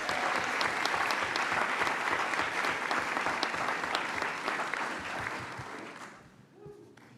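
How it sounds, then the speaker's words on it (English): Sustained applause from an audience at a school district ceremony honoring staff, a dense wash of many hands clapping steadily for several seconds before tapering off toward the end. "I'm glad we applauded him anyway"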